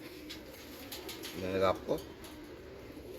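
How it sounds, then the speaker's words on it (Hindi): A brief burst of cooing from pigeons in a small cage rises over a quiet background, followed by a short second coo, with a voice speaking softly nearby. "4 कबूतर, 2 मादियाँ 2 नर हैं माशाल्लाह से"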